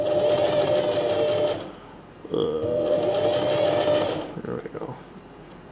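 Sewing machine stitching a small coin purse at a 3mm stitch length, running in two steady bursts of a few seconds each with a short pause between, close and loud, with brief talk near the end.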